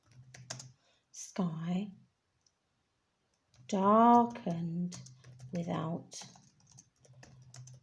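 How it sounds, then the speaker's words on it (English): Typing on a computer keyboard, a run of light, rapid clicks that keeps going quietly in the background while a person reads sentences aloud over it. "Oh dear, what's going on with my typing?"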